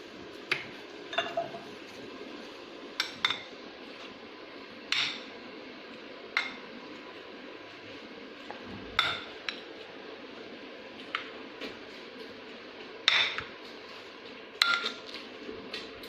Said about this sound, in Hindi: अब हम इसे मिक्स कर लेंगे।